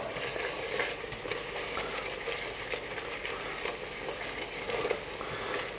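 Puttanesca tomato sauce simmers in olive oil on lowered heat, a soft, steady crackle and bubbling sizzle that stays even and fairly quiet throughout, with no talk.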